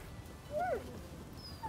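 A dog whines once in the video game Rise of the Ronin, a short rising-and-falling whimper close by over quiet background, followed by a faint second yelp at the end.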